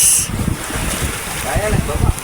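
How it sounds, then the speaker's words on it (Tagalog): Waves slapping against a moored mother boat at sea in strong wind, with rough gusting wind noise and repeated low thuds of water hitting the hull, close and loud. "rinig na ang hampas ng alon"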